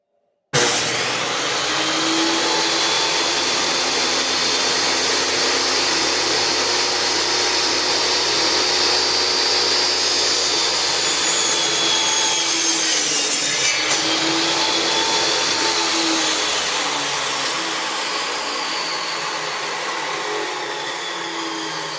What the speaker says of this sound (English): this being cedar, you can get away with just doing a cross-cut like this